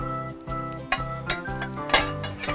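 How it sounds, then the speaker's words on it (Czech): Bacon sizzles on a grill as it is stirred and turned, a steady frying hiss broken by several sharp scraping and clinking strokes of a utensil against the cooking surface. "Ještě ho pečeme pěkně ze tu slaninku, ať je pěkně vypečená"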